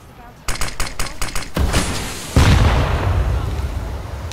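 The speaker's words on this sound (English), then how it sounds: "Throwing a flashbang." In CS GO, a rapid volley of close gunshots is followed by the sharp bang of a flashbang and a loud, blasting burst that fades into a ringing decay.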